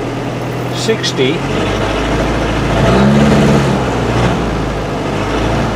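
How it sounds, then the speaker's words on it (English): A cold car engine idles at low revs with an uneven, stuttering rumble, close and steady, while someone talks over it. "the engine always stutters when it's cold"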